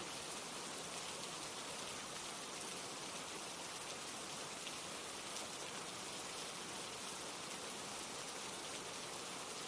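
Rain falls in a steady, broadband hiss, even and unbroken from start to finish, with no voices and no other sounds over it.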